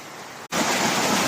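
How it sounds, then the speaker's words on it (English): A river flows steadily near Force Crag Mine in the Lake District hills, a loud, close, continuous rushing wash of water with one brief dropout before it swells back to full. "river flowing along here"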